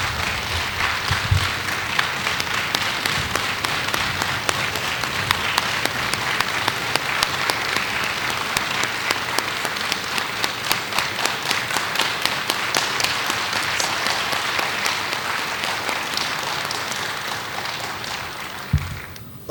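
Sustained applause in a parliamentary chamber at the opening of an ordinary session, with many hands clapping steadily and densely for the full duration, loud and even throughout with no talk over it.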